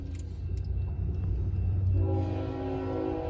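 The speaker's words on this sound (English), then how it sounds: "So here comes the CN train" A CN freight train led by locomotive 3018 rolls through the Ford Avenue railroad crossing in Wyandotte, Michigan during a thunderstorm, with a low rumble building and a steady horn-like tone entering partway through.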